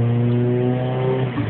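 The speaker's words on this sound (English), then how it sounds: "Hit the gas and it kicks down into second" A car engine accelerating as the automatic gearbox kicks down into second, a loud steady close engine drone with strong low harmonics that shift slightly near the end.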